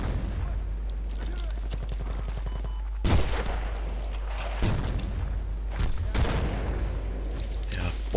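Heavy bombardment in the online shooter Battlefield Bad Company 2, with dense bursts of gunfire and loud booming explosions at about 3, 4.7 and 6 seconds, continuous and chaotic, with no clear talk over it.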